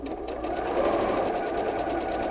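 Sewing machine stitching pieces of quilt fabric runs in one close, continuous whirring burst, loud and steady, with no talking.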